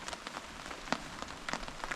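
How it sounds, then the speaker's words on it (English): Spring rain blows through a campsite in Quetico, with scattered, sharp drops pattering close by over a soft, continuous wash of rainfall and no talking. "We're just going to relax and let the rain blow through"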